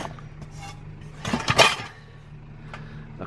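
Dishes clatter briefly while being sorted from a curbside trash pile, a short cluster of clinks and scrapes over a low steady background hum, fairly quiet and without talk.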